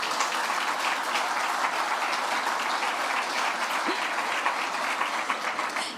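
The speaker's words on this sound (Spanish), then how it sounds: "Vamos a recibirlos, por favor, con un fuerte aplauso." A conference audience applauds steadily to welcome a discussion panel onto the stage, a sustained, even wash of many hands clapping at moderate distance with no voices over it.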